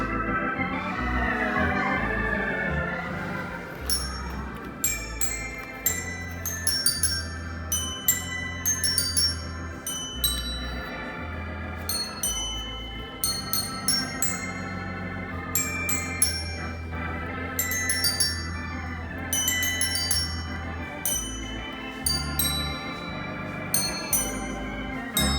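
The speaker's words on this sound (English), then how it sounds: "Tuned desk bells." Tuned desk bells ring out a melody of bright, clear struck tones, one note after another in a steady rhythm, with each ring lingering into the next; close, moderately loud and heard alone.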